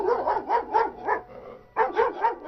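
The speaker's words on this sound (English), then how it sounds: "my neighbor's dog started barking" A neighbor's huge dog barks in loud bursts, a rapid run of deep barks, a brief pause, then another volley, sounding close and forceful despite the house being some distance away.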